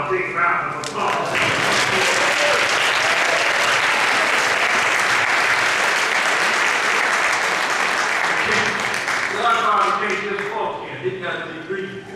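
Loud, sustained applause from an audience at an MLK holiday mass celebration fills the room for about ten seconds, then tapers off with scattered clapping at the end.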